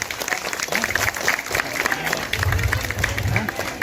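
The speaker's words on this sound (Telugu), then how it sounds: "మా చిన్నారుల కోసం కొంచెం గట్టిగా చప్పట్లు కొట్టాలి" A crowd at a temple Brahmotsavam festival claps for children performing Kuchipudi dance, with lively applause over a background murmur of voices and stirring.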